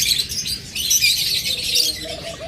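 A flock of pet lovebirds, cockatiels and budgerigars in a shop gives steady high chirps and twitters, overlapping calls close by with a faint squawk near the end.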